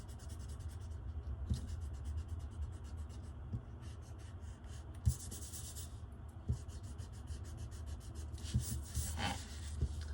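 Pencil drawing of tree branches being erased, a soft scratchy rubbing in quick repeated strokes with short pauses between bursts, close and fairly quiet with no talking.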